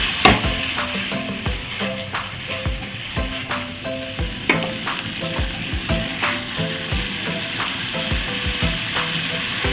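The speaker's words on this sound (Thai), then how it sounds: "ก็ผัดผักชีลาวนะครับใส่หมูสับนะครับ ใส่พริกแกงนะครับ" Dill stir-fried with minced pork and curry paste in a pan, sizzling steadily while a utensil scrapes and knocks against the pan in an irregular rhythm, close and clear with no talk.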